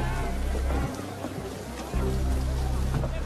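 Steady heavy rain pours outdoors at night in a Klondike setting, with low rumbling hiss throughout and a brief dip in the middle before the downpour surges back loudly.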